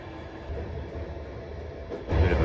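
An Istanbul–Sofia night train sits at a border crossing after midnight, giving a steady low rumble that swells louder near the end, with no talk.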